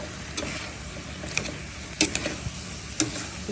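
Vegetables including radish, long beans, potato and eggplant sauté with dried fish in oil, making a soft steady sizzle broken by a few sharp clicks and scrapes of stirring.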